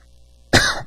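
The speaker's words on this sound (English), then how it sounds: "I got a cough" A single loud, harsh cough bursts out after a quiet stretch, close to the listener, with a rough, throaty tail.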